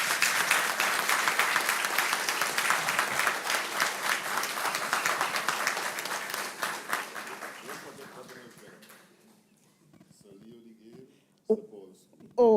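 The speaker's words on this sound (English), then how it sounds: "Give them a round of applause." An audience at a school history book launch applauds teachers and students in a full, close round of clapping that thins out and fades after about eight seconds, followed by quiet room sounds and brief talk.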